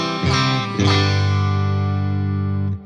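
An electric guitar played through a Kasha Rockmod onboard preamp strikes two chords in quick succession, then lets the second one sustain with a bright, thick tone before it cuts off sharply.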